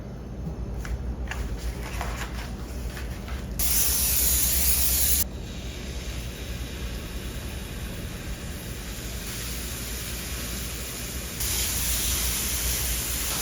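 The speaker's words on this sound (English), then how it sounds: "while the pork is cooking" Pork seasoned with salt, pepper, crushed red pepper and paprika frying in a pan, giving a steady loud hissing sizzle that surges into brighter spitting bursts twice, with no talking.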